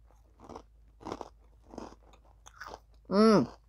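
Vegan oven-baked snacks crunched and chewed in several separate bursts close to the ear, followed by a short loud vocal sound at the end.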